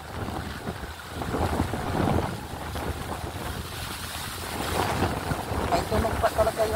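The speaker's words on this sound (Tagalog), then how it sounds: "May tunog pa talaga yung hangin guys." Wind gusts roar steadily across an open hillside in Ortigas after a night of rain, a broad rushing noise with swelling peaks, mixed with faint voices and movement nearby.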